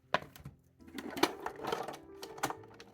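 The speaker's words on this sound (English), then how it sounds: "we're going to use the my Big Shot die cutting and embossing machine" A Big Shot die cutting and embossing machine in use while making a card with a 3D embossing folder, giving irregular mechanical clicks and a soft rolling crank rumble, close and fairly quiet.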